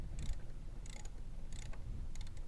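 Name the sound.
wrench loosening motorcycle brake caliper bolts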